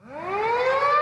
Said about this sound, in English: Oh, there's the siren there.